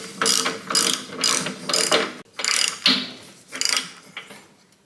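A ratchet wrench clicks in several quick bursts while tightening a bolt on a 1995 Harley-Davidson FXSTSB Bad Boy motorcycle. The bursts are close, loud and separated by short pauses, with no talking.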